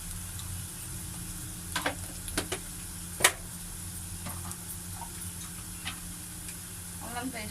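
Gongura chicken cooking in a pan with turmeric and ginger paste, a steady low sizzle running throughout while a spoon scrapes and stirs in a few sharp clinks and knocks, one louder tap near the middle.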